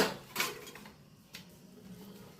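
Sukhdi mixture being spread into a metal plate: quiet, close scraping with two sharp metallic knocks, the first early and the second a second later, then soft rubbing. No one speaks.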